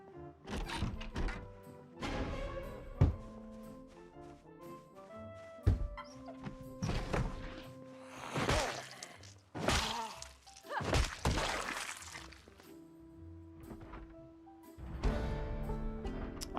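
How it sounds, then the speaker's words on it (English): A zombie bangs on a door in the survival game Project Zomboid, sounding as repeated heavy thunks and thuds at an irregular rhythm, mixed with other game noises, knocks and clucking sounds, fairly loud throughout. "there's a zombie banging on a door somewhere now"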